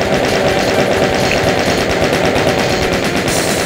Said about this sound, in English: And then we'll use the chain gun.